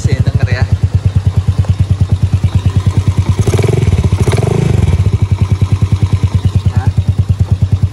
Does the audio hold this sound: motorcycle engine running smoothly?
yes